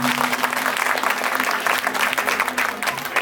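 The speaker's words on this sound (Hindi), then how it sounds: "परमेश्वर के लिए जोरदार ताली बजा के हम परमेश्वर की महिमा करें।" Loud applause breaks out from a church audience at a Christmas programme in Singrauli, Madhya Pradesh, many hands clapping in a dense, sustained burst with a faint steady hum underneath.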